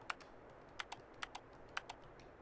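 Keys on a computer keyboard in GTA 4 clack in quick paired taps, three or four short bursts, close and crisp against a quiet room.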